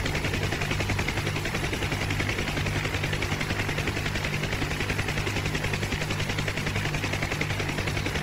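Bursts from Huey door gunners' machine guns in DCS World run nonstop under the helicopter's loud, steady rotor and engine drone, with no voices.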